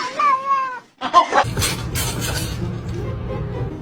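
A cat gives a clear, close meow, then a second shorter one, followed by scuffling and rustling noise.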